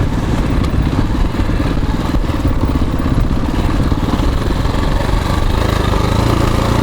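A motorcycle fitted with an adjustable clutch lever being ridden, its engine droning loud and close with a steady rumble and rattling clatter throughout, no voices.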